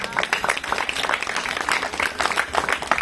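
An audience at a Christmas church gathering claps loudly, a dense, steady wash of applause that lasts the whole stretch, with a voice faintly present underneath.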